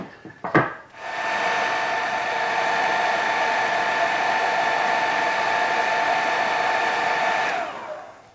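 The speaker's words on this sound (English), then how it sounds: "I'm going to dry that yet again" Hair dryer blowing to dry paint on a diorama model, switched on after a brief clatter and running loud and steady for several seconds before cutting off, close and alone.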